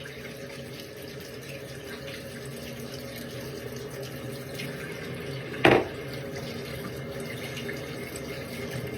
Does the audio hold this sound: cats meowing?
no